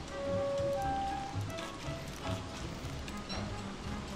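Heavy rain pours down in the survival game Don't Starve: Reign of Giants, a dense continuous hiss of falling drops with a few faint tonal game notes early on and no voice over it.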